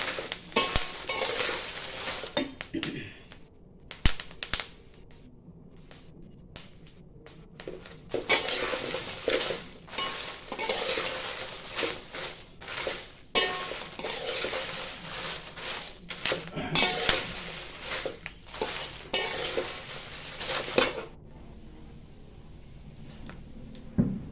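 Dry chillies and spices roasting in a pan for a Satara-style masala, with repeated scraping and stirring clatter of a utensil against the pan, fairly close and steady with brief pauses.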